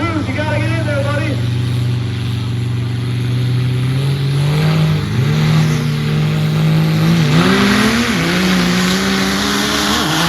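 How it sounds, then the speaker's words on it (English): A 900-horsepower Duramax diesel truck in the Truck Challenge class at the Hub City Drags in Wisconsin revs hard, its engine note climbing in stepped surges, loud and close, with a voice talking over it. "a 900 horse Duramax, really fast"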